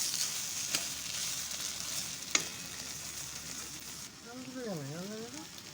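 Curry sizzles in a pan as garam masala is stirred in, a steady close frying hiss with occasional clinks of a spoon, and a faint warbling tone rising and falling near the end.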